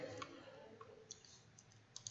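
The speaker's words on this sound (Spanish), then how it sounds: "en este caso haríamos clic en OK" A computer mouse click on an OK button in statistics software, heard as a few faint, sharp clicks spread across a quiet moment with no talking.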